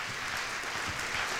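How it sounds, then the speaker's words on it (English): Brief burst of audience applause at an innovation awards event as a pitcher is introduced, a steady wash of many hands clapping for little more than a second. "how about a big round of applause for Connor?"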